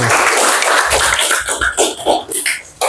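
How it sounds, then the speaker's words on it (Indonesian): An audience claps throughout a session on managing emotions, with dense, loud applause that starts strong and breaks into uneven scattered claps before fading out near the end. "bisa kasih tepuk tangan?"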